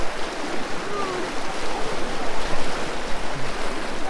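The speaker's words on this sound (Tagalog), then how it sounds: "Ang lakas sa alon." Strong river current rushing and churning on a hike toward a waterfall in Doña Remedios Trinidad, a steady, loud wash of water noise with no clear voices.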